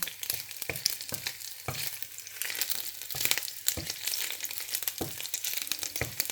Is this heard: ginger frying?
yes